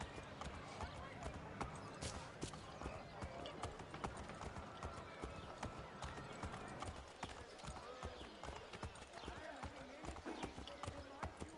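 Horse hooves clip-clop in a steady, rapid rhythm during riding in Assassin's Creed 3 Remastered, moderately quiet and continuous, with speech in the background.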